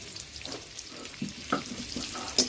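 Whole spices, spice paste and onion are lightly fried for an egg korma, giving a close, soft sizzle with a few sharper stirring scrapes and clinks over steady background hiss.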